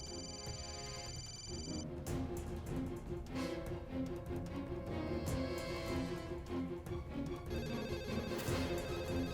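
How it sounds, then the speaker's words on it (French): A telephone rings indoors in a dubbed Indian TV drama, a repeated electronic ring over steady music and clock-like ticking, with no voices. "Prends ce téléphone, Saïba, allez, prends-le!"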